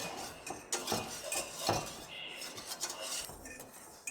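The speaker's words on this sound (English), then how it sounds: "whisk it till 10 minutes passes." A whisk clatters against a metal pot while mango gelato mixture is beaten, a busy run of close clinks and scrapes with a faint murmur of voice underneath.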